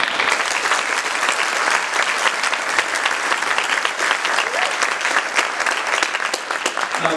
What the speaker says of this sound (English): Please give them all another great round of applause.